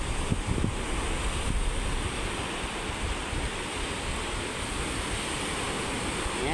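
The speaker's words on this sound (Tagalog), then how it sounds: "Ang lalakas ng hangin ngayon. Hangin habagat." Strong southwest monsoon wind blows by the sea, a loud continuous roar of gusts and buffeting mic noise mixed with surf, with no voices.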